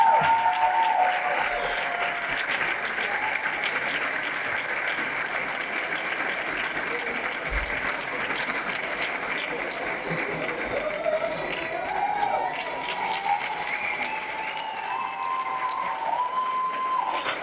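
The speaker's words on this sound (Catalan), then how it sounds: "Un fort aplaudiment." Sustained applause from a large audience at a graduation ceremony, steady and continuous clapping filling the room, with some murmuring underneath.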